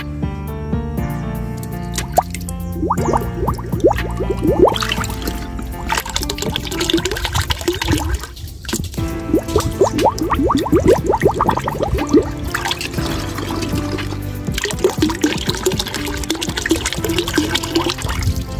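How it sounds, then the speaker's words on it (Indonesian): Water being poured to rinse leftover molasses from a container while making fermented liquid organic fertilizer: a steady, loud splashing and gurgling pour that continues almost without a break for the whole stretch. "Ini kita kasih air dulu biar air molasenya benar-benar habis"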